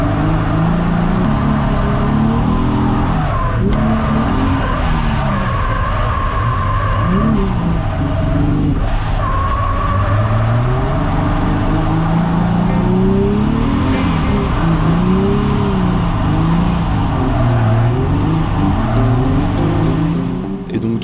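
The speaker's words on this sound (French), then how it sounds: "En fait, pendant la casse de Louis, moi j'étais sur la piste des essais libres pour me chauffer un peu et me préparer à ma qualif." Drift car circling a free practice track, its engine loud and constant throughout, revving up and down in repeated swells, with occasional tire squeal.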